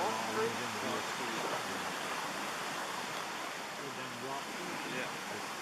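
A mountain creek where three streams join on Brown Mountain, rushing steadily as a broad, continuous water roar close by, with no pause for the whole stretch.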